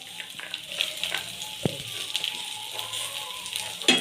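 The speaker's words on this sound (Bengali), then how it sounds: "এই আলু টিকিয়ায় কিন্তু খুব একটা তেল লাগে না, অল্প তেলে ভাজতে হয়।" Aloo tikki potato patties shallow-fry in a little oil over a low gas flame, giving a soft continuous sizzle with scattered crackles and one brief clink, close by and without speech.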